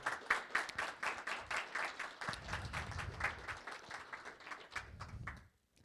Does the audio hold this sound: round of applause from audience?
yes